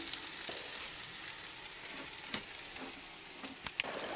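French toast sizzles in a sticky frying pan, a close, steady hiss of frying broken by a few small crackles and pops, with no talk.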